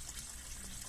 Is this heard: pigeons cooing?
no